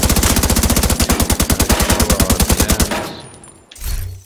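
Video game weapon fired in one sustained full-auto burst, a fast even string of loud close shots running for about three seconds until the magazine runs dry, then near silence with a short mechanical rattle.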